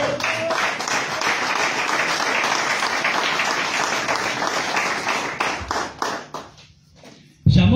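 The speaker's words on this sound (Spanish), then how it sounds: "Dale un fuerte aplauso al Señor." A church congregation claps loudly in praise, sustained applause that holds steady for about five seconds and then thins out into a few scattered claps before fading to near quiet.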